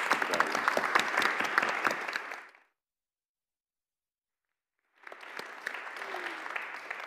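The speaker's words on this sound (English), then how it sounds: "another round of applause for our guests today" Audience applause for panelists after a film screening: steady, dense clapping that cuts to silence partway through, then resumes at a similar level.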